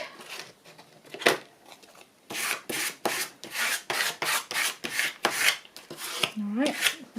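Repeated rasping strokes of paper being rubbed smooth on the back of a handmade journal card, a dozen or so firm close-up scrubbing passes in a steady rhythm, with a brief soft vocal sound near the end.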